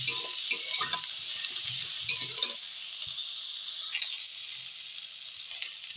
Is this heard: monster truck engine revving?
no